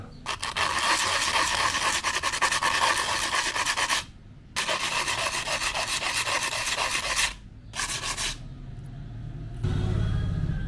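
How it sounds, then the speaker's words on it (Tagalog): Hand sanding of a homemade brake light stopper for a KIA to smooth its rough surface, brisk rhythmic rasping strokes in three bursts separated by short pauses, close and fairly loud with no speech. "lihain natin ng konti para mawala yung gaspang"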